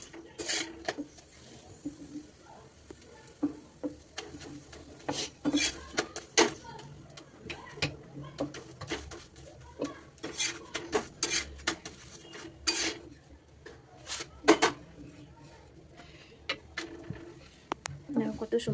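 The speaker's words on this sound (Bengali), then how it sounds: "দেখো আমার ছেলে রুটি বেলছে" A small child rolls roti dough with a rolling pin, making irregular wooden knocks and clattering taps at close range, spread unevenly through the stretch, while an adult talks encouragingly in between.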